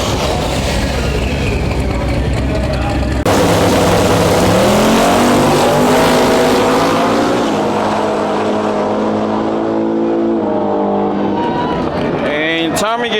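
Drag race cars roar down the strip in a loud, continuous engine blast, with revs rising and then falling away as a car passes. A voice talks over the noise.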